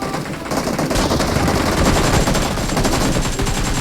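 Rapid bursts of automatic gunfire from a video game fill the whole stretch, loud and continuous with dense overlapping shots and no voices.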